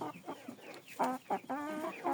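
Frizzle and Chinese silkie chickens clucking in short bursts, several birds close by, loud intermittent calls with brief pauses between them.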